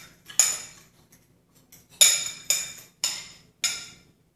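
A metal utensil clinks against a bowl while stirring garlic, olive oil and mustard, five crisp, ringing strikes spaced about half a second apart with quiet gaps between.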